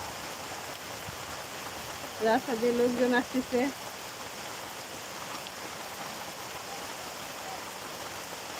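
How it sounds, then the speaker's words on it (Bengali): Rain falls outdoors in Gazipur, a steady broadband hiss that runs the whole time, with a short burst of nearby talk partway through. "আলহামদুলিল্লাহ বৃষ্টি হচ্ছে দেখেন"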